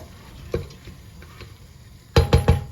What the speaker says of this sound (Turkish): Ve yine tam bu esnada bir çay kaşığı pul biberimizi de ilave edelim. Güzelce karıştıralım.